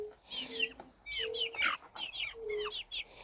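Young chickens peep and cluck near the listener, with repeated short chirps and a few lower clucks in an irregular flurry, moderately loud against faint background noise.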